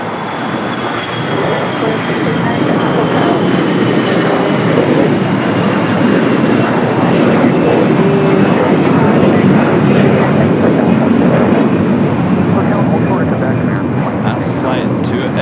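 Airliner taking off on a flight to Atlanta at Los Angeles airport, a loud sustained engine roar with a slowly falling whine, people talking over it throughout.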